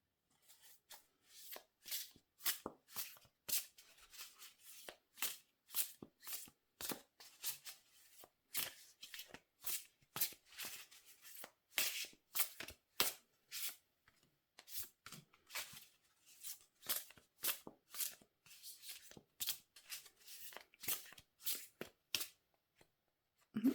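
Tarot cards shuffled by hand in a steady run of short, crisp riffling bursts, close and fairly quiet, with brief pauses between, no voices.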